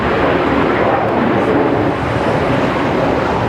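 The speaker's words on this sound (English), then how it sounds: "Looks like a Dreamliner though." Boeing 787 Dreamliner airliner flying near Melbourne Airport, a steady broadband roar with wind buffeting the microphone, loud and sustained throughout without a break.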